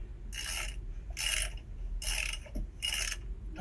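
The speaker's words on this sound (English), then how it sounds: "This one needs to be tightened up." A ratcheting wrench tightening a fitting on an Outback solar power system, with four evenly spaced bursts of rapid clicking, loud and close.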